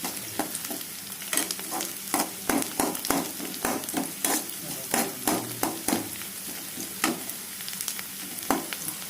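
Onions crackle and sizzle in hot oil, broken by frequent rhythmic scraping and stirring strokes against the pan, close and fairly loud.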